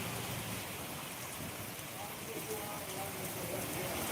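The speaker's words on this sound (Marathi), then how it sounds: "जेवळीमध्ये मागील अर्ध्या तासापासून मुसळधार पावसाला सुरुवात झालेली आहे" Heavy monsoon rain pours down in Jevali, a dense, steady hiss of water that fills the whole clip without a break.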